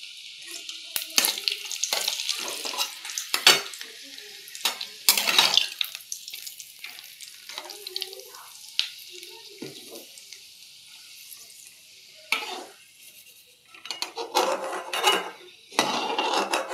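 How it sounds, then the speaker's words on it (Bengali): Papad fries in hot oil in a home kitchen, crackling and sizzling in loud bursts that rise and fall, with scraping stirs and short pauses between batches. "পাঁপড়টা ভেজে নিই এবার।"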